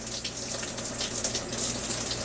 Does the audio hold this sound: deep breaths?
no